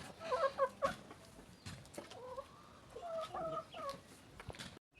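Chickens on a small low-cost farm cluck and squawk in short, lively bursts, several birds calling close by over quiet background noise, with no talking.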